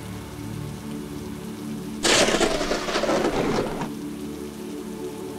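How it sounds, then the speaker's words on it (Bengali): Animated rain in a Bengali cartoon surges suddenly into a loud, dense downpour for about two seconds, then drops back to a softer steady patter. "আবার বৃষ্টি বেড়ে গেল।"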